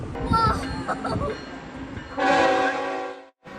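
A northbound Norfolk Southern freight train with a multi-locomotive lash up passes, its horn blowing in a loud sustained blast after quieter rumbling, with a voice talking early on.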